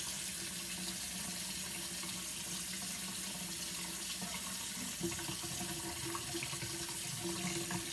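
A tap runs steadily while an eight-week-old puppy is bathed in the sink, making a continuous close hiss and splash of water. No one speaks over it.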